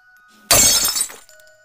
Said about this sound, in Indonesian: suara gelas kaca jatuh dari meja kecil di samping ranjangnya